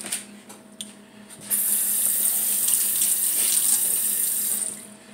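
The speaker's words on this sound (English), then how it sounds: "Now, I'm going to rinse my spoon." A kitchen tap runs at full flow as a spoon is rinsed under it while a simple dinner is cooked, a loud steady rush of water lasting a few seconds after a quieter start.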